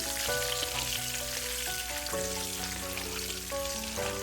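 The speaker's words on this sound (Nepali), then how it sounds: "फेरि केही बेर अन्डालाई फ्राई गर्नुपर्छ।" Eggs sizzle and crackle steadily in a hot pan while being fried for egg biryani, a close, dense frying hiss with scattered pops, alone without talk.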